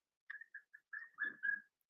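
A pet bird named Billy whistles a short run of clear, high notes, several brief chirps followed by longer rising whistles, close and alone with no talk.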